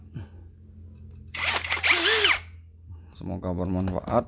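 A budget Zhipu or Skoota electric drill spins up with a loud, close motor whine for about a second before stopping, followed by a voice speaking.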